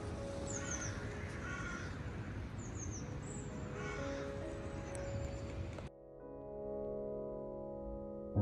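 Crows caw repeatedly in short, harsh runs of two or three calls over a steady outdoor hiss on a quiet spring day near Ilam Hall; the scene cuts abruptly to a quieter indoor hum.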